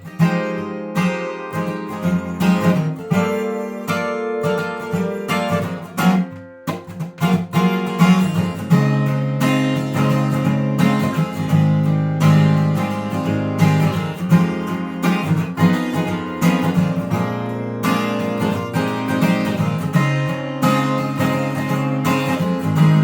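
An electric guitar playing alone at a steady, fairly loud level, with dense chords and melodic runs that carry through without pause and include one brief dip partway.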